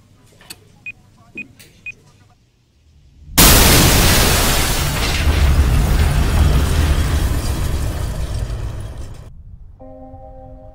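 Time bomb explosion in a Turkish comedy film scene: a few faint ticks, a short silence, then a sudden loud roaring blast with a long noisy rumble that fades before abrupt quiet.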